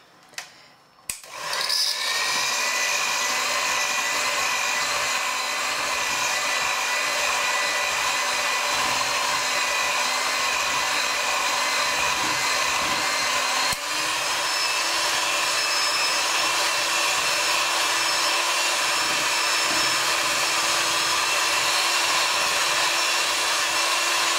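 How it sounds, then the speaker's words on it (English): An electric whisk beating chocolate ice cream mixture in a bowl, a steady loud motor whine that starts after a couple of brief clicks and runs continuously with a slight shift in pitch partway through. "I'm going to use an electric whisk because it makes the job a lot quicker and easier"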